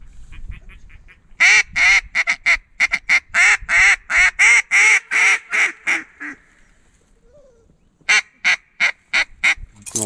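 Ducks quack loudly and close by during a duck hunt near Mobile, in a rapid run of harsh calls, then a pause and another burst of quacks.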